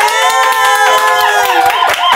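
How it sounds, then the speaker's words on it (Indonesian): A studio audience applauding and cheering at a talk show as a guest is welcomed, a loud dense burst of clapping and whoops layered with crowd voices, continuous throughout. "kenceng dong tepuk tangannya"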